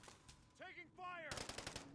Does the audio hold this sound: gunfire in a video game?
yes